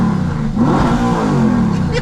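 A high-mileage supercar engine revs loudly and close up, a sustained roaring rise and hold of the engine note with no break.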